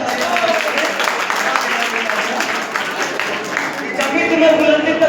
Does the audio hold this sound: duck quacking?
no